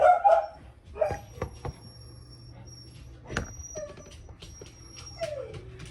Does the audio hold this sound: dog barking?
yes